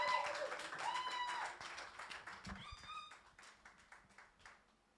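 Church congregation applauding after a call to praise during a French-language service, a patter of clapping that tapers off over a few seconds, mixed with faint tonal sounds.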